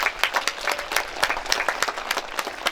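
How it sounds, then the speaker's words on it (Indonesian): An audience at a school religious commemoration in Indonesia applauds enthusiastically, a dense, continuous patter of many hands clapping at close range, with no talk over it. "beri tepuk tangan dengan meriah sekali"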